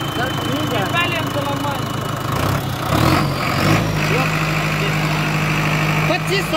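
A Sonalika 750 tractor engine runs close by in first gear at around 2500 RPM, a loud, steady diesel drone, while someone talks over it.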